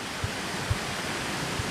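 Steady rushing water from a waterfall ahead on a steep, moist mountain hiking trail, a broad even roar filling the clip, with a few soft low thumps that sound like footsteps or a walking pole.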